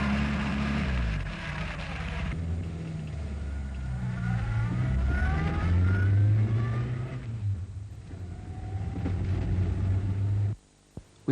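An overland expedition vehicle driving, a heavy low engine rumble with rising and falling revs and road noise, steady and close for most of the stretch before dropping away abruptly near the end.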